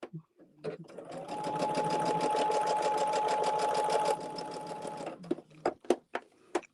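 Sewing machine stitching quilt blocks together, a close, fast mechanical whirring run of about four seconds, followed by a few scattered clicks and taps.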